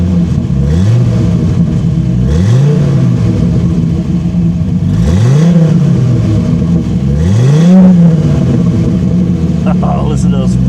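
A Dodge Viper V10 with its stock exhaust revs repeatedly from idle, each rise and fall a loud, close, rumbling swell with a low, tractor-like tone, three to four revs in a row, with someone talking over it.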